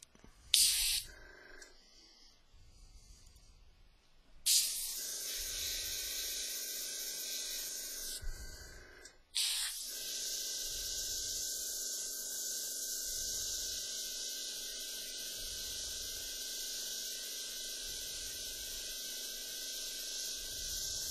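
An airbrush sprays paint in long steady hissing bursts, close and fairly quiet, with short pauses between passes and no talking.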